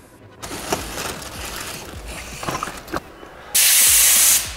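Cleaner sprays onto a Vespa PX carburetor in a loud, sharp hiss that bursts on near the end, following a stretch of softer handling noises and faint bumps.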